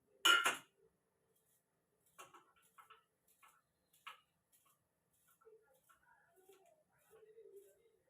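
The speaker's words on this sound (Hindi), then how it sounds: "मैं सलाद काट देती हूँ।" Knife chopping salad at home in an Indian kitchen, a quick burst of sharp cuts at the start followed by scattered light taps and clinks on a board, with someone talking quietly in between.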